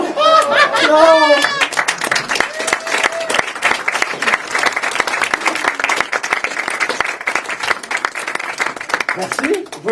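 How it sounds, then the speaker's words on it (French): Audience applause at a live puzzle show, dense rapid clapping that starts after a burst of excited voices and holds steady for several seconds, with a voice returning at the very end. "Vous pouvez aussi vous applaudir"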